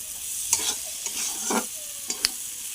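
Vegetable bhaji frying in a pan and being stirred, a steady close sizzle broken by several sharp scraping clinks of the spatula against the pan, with no talking.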